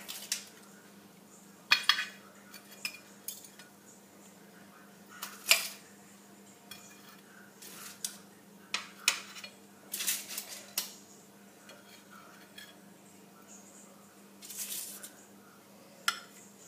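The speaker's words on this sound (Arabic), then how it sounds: "توا باش نحط في الصحن ونسربي" A baked lamb head set onto a plate, with scattered sharp clinks and taps of dishes and cutlery, quiet and close, over a faint steady hum with no talk.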